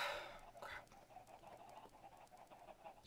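Chickens in the video game Pixelated Survival give faint, soft repeated clucks over a low background hum, with no one talking.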